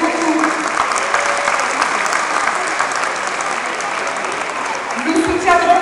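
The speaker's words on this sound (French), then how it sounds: "je vous demande de les applaudir s'il vous plaît" Loud, sustained audience applause for exhibitors at a Berber cultural evening in Aulnay-sous-Bois, a dense continuous clatter of many hands, with a voice briefly rising over it near the end.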